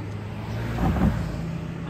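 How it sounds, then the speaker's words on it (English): A car passes by on the Linn Cove Viaduct road along the Blue Ridge Parkway near Grandfather Mountain, a brief swell of tyre and engine noise that peaks and fades over a steady background hum. "Now there's a car coming by."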